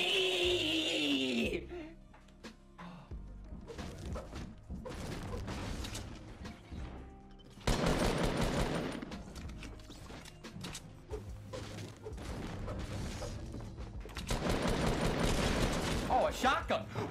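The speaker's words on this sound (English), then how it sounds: "Oh, a shotgun." Shotgun blasts and weapon handling in a chaotic Fortnite match, with heavy bursts and clattering mechanical clicks coming in clusters amid other game noise, loud and close, while a player talks over the action.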